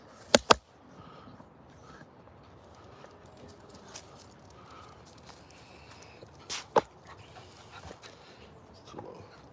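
Dogs walk off leash outdoors. Two sharp clicks or tag jingles come near the start and another around midway, over a soft, steady outdoor background with no talking.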